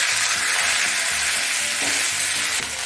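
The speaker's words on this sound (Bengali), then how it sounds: "মশলাটা একটু ভাজা ভাজা করে নিয়ে টমেটোর পেস্টটা দিয়ে দেব।" A spice paste of ginger, green chilli and radhuni frying in hot oil in a pan, a loud, steady sizzle broken by rhythmic scraping strokes of stirring, close up with no talking.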